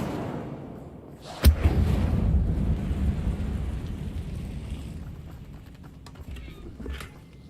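The Incendio fire spell in Hogwarts Legacy bursts with a single sharp, loud blast, followed by a long, roaring rumble that slowly fades under faint background sounds.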